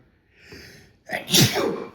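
A single loud sneeze, a short breathy intake followed by a sharp burst, close and alone.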